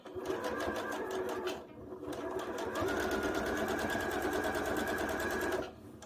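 A sewing machine runs steadily, sewing an understitch along the boat neckline of a knit tee, with a fast even whirring hum in two bursts separated by a brief pause, close and alone.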